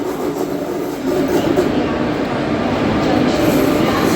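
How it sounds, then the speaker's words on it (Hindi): A passenger train approaches on an Indian railway line, a steady low rumble that builds slightly and holds throughout without pause, with faint background voices. "और सामने से आ रही है अपनी ट्रेन।"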